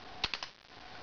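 Three quick, close, crisp pops in a rapid burst from a modified Spyder MR1 paintball marker, then quiet.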